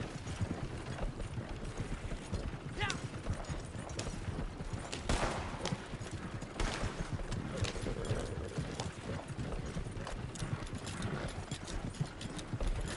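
Steady clip-clop of horse hooves on a hard road in the video game Red Dead Online, continuous and fairly close, with faint mechanical clicks and rattles mixed in.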